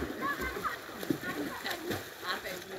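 Children swimming in a village pond, with faint intermittent splashes and sloshing water at a distance, mostly under a person talking nearby.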